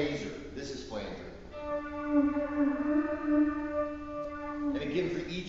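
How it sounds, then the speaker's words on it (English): Electric violin played through a flanger effect: a long sustained bowed note with a whooshing, jet-like sweep, framed by short phrases at either end, close and prominent. "this is flanger."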